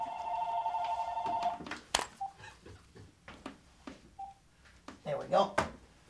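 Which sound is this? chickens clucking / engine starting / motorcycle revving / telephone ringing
telephone ringing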